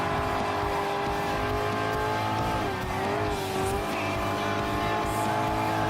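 Racing cars in an online Gran Turismo Sport lobby race, engines droning steadily with a rising and falling pitch sweep and tyre squeal, loud and continuous.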